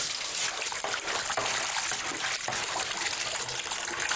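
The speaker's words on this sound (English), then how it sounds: "Strong liquor is poured over the freshwater crabs, which helps release the silt" Strong liquor splashes steadily over freshwater crabs in a kitchen, a continuous close trickling pour of liquid that runs unbroken for several seconds with no voices.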